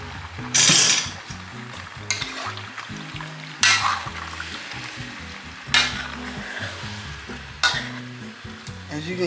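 Curry chicken sizzles steadily in a pot after hot water is added, a loud continuous fry broken by several sharp bursts of stirring and scraping, with no talking.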